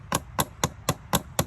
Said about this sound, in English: And then I'm going to go back in with my hammer or mallet.